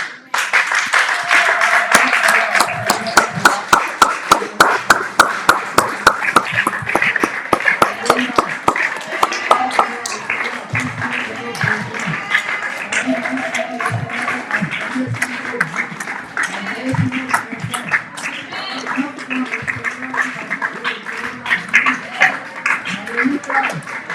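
A church congregation on a Sunday morning acclaims the Lord with loud, rhythmic clapping that is strongest at the start, then fades under singing voices and a busy backdrop of worshippers.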